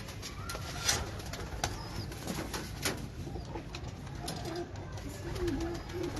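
Pigeons coo softly in a loft of fancy tady pigeons, low murmuring calls repeating steadily under broadband background noise, with a few brief wing flaps and faint chirps.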